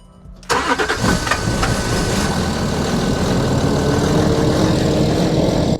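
A Range Rover engine cranks and catches about half a second in, then settles into a steady, close, loud idle that runs to the end with no talk.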